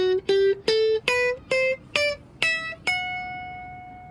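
Eight plucked guitar notes climb one at a time through the Locrian mode in a steady, even rhythm, played alone and close. The final note rings out and slowly decays.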